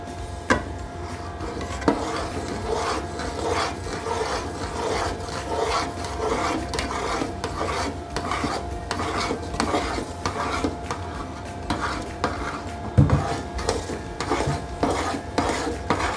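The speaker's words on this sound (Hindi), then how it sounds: "अब हमने जो चीनी और अंडे मिक्स करके रखे थे वो अब हम इसमें आंच बिल्कुल हल्की आंच करके तो इसमें आहिस्ता आहिस्ता मिक्स करते हैं।" A spoon scrapes and stirs besan barfi mixture, with sugar and eggs added, in a pan over very low heat. The scraping repeats continuously and close up with no talk.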